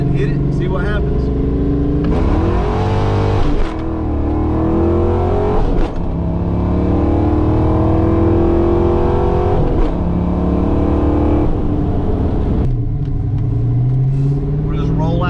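A car fitted with 19 mm injectors launches and accelerates hard, its engine loud and close, climbing through the revs in repeated surges with brief dips at the gear changes, then dropping to a lower rumble near the end.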